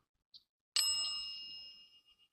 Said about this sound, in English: there is a dead bell, and what you can do is that you can get close enough and it can make a ringing noise